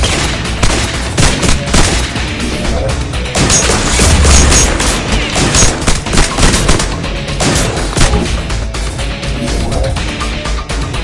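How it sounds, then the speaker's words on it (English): A frag grenade blast erupts during a video-game firefight, set amid dense, continuous volleys of gunfire and booming impacts that stay loud and crowded the whole time, with no talking. "Frag incoming!"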